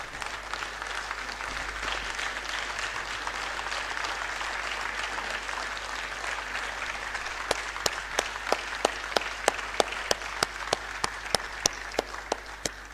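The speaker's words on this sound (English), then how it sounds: "give a thunderous applause to our guest speaker" A large audience at a University of Lagos convocation lecture gives sustained applause to the guest speaker, a dense, even wash of clapping with sharper individual claps standing out near the end.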